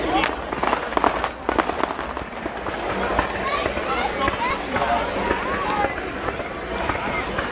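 Fireworks explode in a string of sharp cracks and bangs, densest in the first two seconds, over a continuous bed of music and crowd voices.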